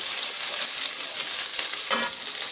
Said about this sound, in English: I will fry the sukumawiki. So I put some onions in already heated